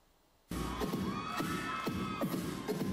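Crowd at a youth dance competition cheering and shouting loudly after a sudden start, sustained excited noise with a few sharp bangs or claps mixed in.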